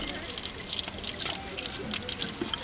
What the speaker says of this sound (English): First you pour the champagne. For my purposes, I'm using a vitamin water.